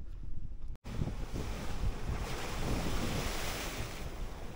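Sea surf roars continuously at Mousuni Island with wind buffeting the microphone, a broad steady wash of breaking waves.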